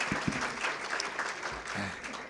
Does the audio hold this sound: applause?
yes